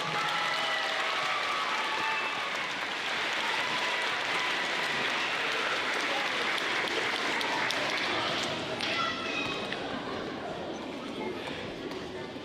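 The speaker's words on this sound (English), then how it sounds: "One more big round of applause." Audience applause fills a school awards ceremony, a long even wash of many hands clapping from a crowd, with faint voices calling out underneath.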